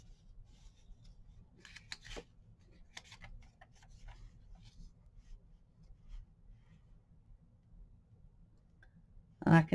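Scissors snip paper while trimming a bullet journal page, with a few short cuts early on and a sharper, louder snip at the very end over quiet background.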